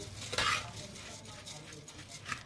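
Puffed rice for kachcha chivda, a Vidarbha-style murmura snack, is tossed and stirred in a bowl with a utensil, giving a short, quiet scraping and rustling with a couple of clinks.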